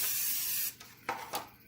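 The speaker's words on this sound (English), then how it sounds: "I'm going to go ahead and spray my pan." Cooking spray from a can misted onto a baking pan for bread pudding: a steady close hiss lasting under a second, followed by two shorter quick spritzes.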